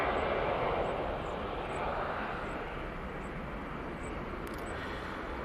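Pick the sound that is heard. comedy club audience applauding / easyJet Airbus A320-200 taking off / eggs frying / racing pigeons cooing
easyJet Airbus A320-200 taking off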